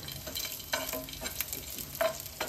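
Chilies and garlic frying in hot oil on a low flame, a steady soft sizzle broken by several brief stirring scrapes, close and fairly quiet with no talk.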